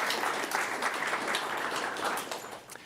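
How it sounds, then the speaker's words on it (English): An audience at a Norman Public Schools board of education meeting applauds three All-State senior soccer players, a steady wash of hand clapping from a seated room, moderately distant and fading slightly at the end. "So round of applause for those 3."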